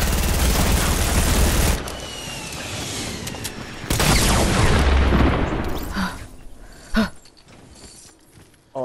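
Video game gunfire from an unseen shooter crackles and booms in dense, loud bursts, easing off into scattered distant shots toward the end.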